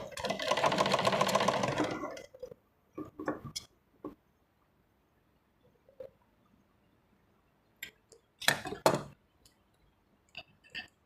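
A sewing machine stitches a salwar in one brief, close whirring burst of about two seconds, followed by scattered soft clicks and handling taps amid quiet.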